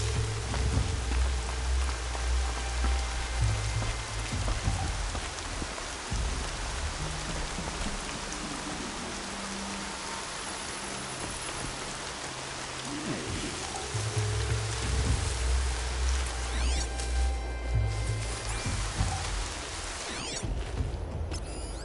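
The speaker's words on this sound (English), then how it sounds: "Rain's not so bad." Steady rain falls in Horizon Zero Dawn, a broad continuous hiss of drops on surfaces with low rumbling undertones, holding at an even, moderate level throughout with no voices.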